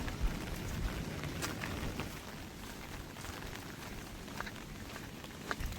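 Steady rain falls, a dense hiss with scattered drops standing out, fairly quiet and continuous throughout.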